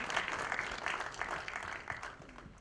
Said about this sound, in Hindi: उनके लिए भी एक बार जोरदार तालियां प्लीज